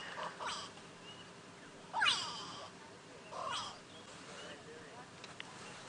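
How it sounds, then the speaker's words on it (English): Go-away birds give harsh alarm calls at a distance during an early-morning safari drive in the bush, two or three rising squawks standing out over low background hiss. "Now you can hear the go-away birds alarming."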